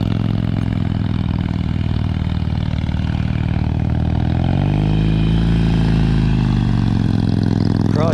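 A motorcycle engine on a low-speed rider training course, running loud and close throughout, with the throttle rising in a rev mid-way before settling again.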